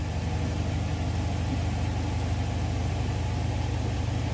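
A Bosch Serie 4 WAN28280UA washing machine spins a load of curtains, giving off a steady, dense low hum and whir that holds at an even level with no pauses.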